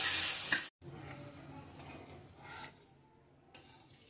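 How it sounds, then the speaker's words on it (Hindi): Spice masala with peas fries and gets stirred in a pan over a medium flame, a soft sizzle with occasional scraping strokes after a loud opening burst. "अब इसमें डालेंगे मटर, इसको भी 1-2 मिनट के लिए भून लेंगे"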